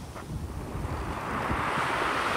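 Muddy sea waves wash onto the beach at Adler, a brief breaking surge with a low rush and some wind buffeting on the microphone, fairly close.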